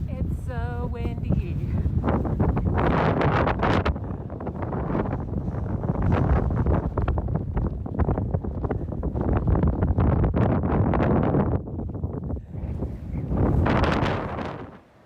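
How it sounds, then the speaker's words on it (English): Strong wind buffets the microphone on an exposed Colorado ridge of the Continental Divide Trail on a cold morning, loud roaring gusts that continue for most of the time before easing briefly and surging again. "It's so windy."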